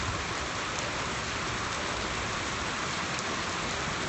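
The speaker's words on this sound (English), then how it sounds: "Rain in drought-stricken South Africa." Steady rain falls during a drought in South Africa, a dense, even hiss of drops on surfaces that holds constant and fairly soft throughout, with no voices.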